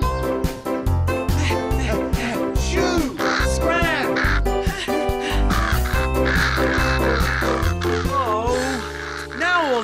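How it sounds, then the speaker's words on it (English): Cartoon crows caw loudly and repeatedly in an animated children's episode, the raspy calls layered over busy music and sound effects, with several birds calling in quick succession. "The crow's eating the wheat, B1."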